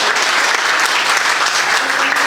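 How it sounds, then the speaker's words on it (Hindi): A crowd at a Hindi comedy poetry gathering, a hasya kavi sammelan, breaks into dense applause, loud and close, one sustained burst of clapping with no voices over it. "एक बार तालियां बजाइए अच्छे से।"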